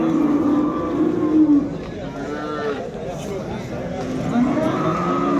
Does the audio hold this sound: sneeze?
no